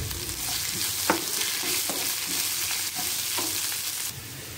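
Onions sizzle steadily in a hot pan, a constant frying hiss broken by a few soft scrapes of stirring.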